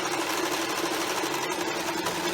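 A sewing machine running fast and continuously while stitching an extra seam on a rice-filled heating bag, a loud, close, even mechanical whir with rapid needle chatter.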